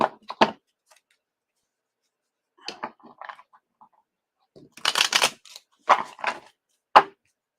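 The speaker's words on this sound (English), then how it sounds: "I'm going to shuffle twice." Cards are riffled and shuffled in several quick bursts separated by quiet pauses, close and crisp.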